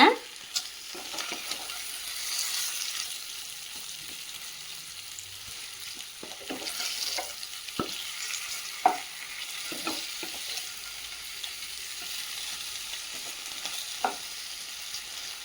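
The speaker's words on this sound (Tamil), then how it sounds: "இப்போ இது நல்லா எல்லா சைடும் வெந்து வர மாதிரி உருளைக்கிழங்க திருப்பி விடுங்க" Potato pieces fry in a pan for a potato and egg pizza, giving a soft, even sizzle punctuated by scattered sharp scrapes and clicks as they are turned, with no voices.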